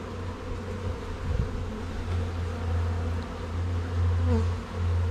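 A steady, dense buzz of many honeybees humming together in a hive, loud and close, with no talking.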